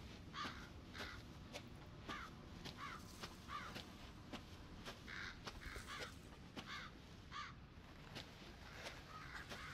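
Crows caw repeatedly in the Resident Evil 7 video game, a steady series of harsh calls over a dense, noisy ambient background with faint footsteps.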